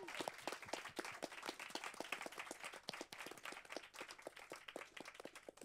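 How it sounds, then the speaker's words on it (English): An audience claps at an evening talk event at Pakhuis de Zwijger in Amsterdam, with distinct individual hand claps forming a busy, irregular patter that stays fairly soft and distant from start to finish. "I'm going to ask you guys to clap one more time for everyone's amazing contribution tonight"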